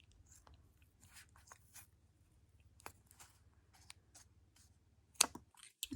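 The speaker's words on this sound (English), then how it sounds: "Yeah, I have to cut it a little shorter." Scissors snip puppet material shorter while making a dragon puppet base, with a series of quiet, irregular close-up cuts and clicks and a sharper crunch near the end.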